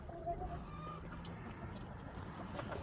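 Hens cluck softly in a farm pen during winter, scattered faint clucks over a low, steady background hum.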